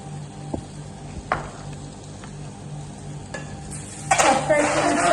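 Salt and turmeric hit a frying pan in a close sizzle, with sparse spoon taps and scrapes, then a sudden louder burst of crackling hiss near the end as more goes into the hot oil.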